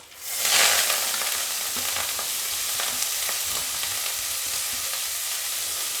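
Leafy greens are dropped into hot oil with turmeric in a kitchen pan, setting off a loud burst of sizzling that settles into a steady close crackle with occasional stirring clicks, and no voices.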